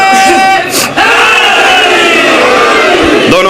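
A large crowd at an outdoor religious gathering roars the slogan "Haidari" with hands raised, a loud, massed chant that swells and sustains close by, with a short dip before surging again.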